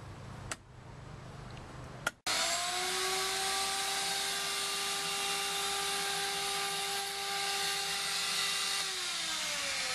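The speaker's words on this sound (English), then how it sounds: "that's been about 3 minutes with the vacuum" A shop vacuum switches on with a sharp thump and roars steadily at close range, sucking out an air conditioner's condensate drain line through a fitted adapter, its droning motor tone holding level before starting to wind down near the end.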